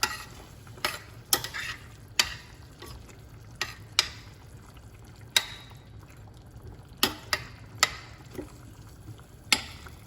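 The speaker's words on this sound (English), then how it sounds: "And give it a stir." Jamaican curry chicken is stirred in a pot, with a low simmering bubble underneath and a series of sharp spoon knocks against the pot spaced irregularly, close and clear, with no one talking.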